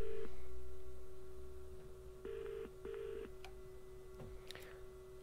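Phone call tones come through a Connected Ride motorcycle helmet: a steady tone with short repeated beeps and dial-like pulses, fairly faint against a low background hum.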